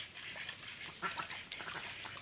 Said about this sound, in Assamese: মোৰ ফাৰ্মত 50টা লোকেল হাঁহ আছে।